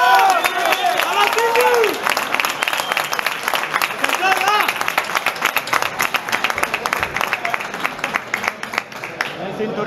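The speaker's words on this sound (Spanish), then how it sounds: "Y recibimos con un fuerte aplauso al campeón de España" A crowd applauds and cheers at a Spanish boxing championship weigh-in for the welterweight champion, dense rapid clapping throughout while an announcer speaks over it on a loudspeaker.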